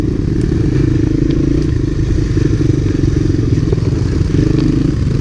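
A 1985 Honda Big Red ATV with an MBRP exhaust runs close by while being ridden, its engine a loud, steady low rumble with rattling clatter and bumps from the trail throughout.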